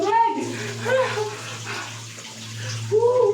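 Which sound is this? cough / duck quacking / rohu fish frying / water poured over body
water poured over body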